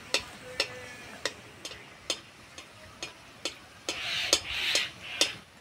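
Khaja pastry frying in oil on low heat, a soft sizzle under a series of sharp ticking taps roughly every half second, close and moderately quiet.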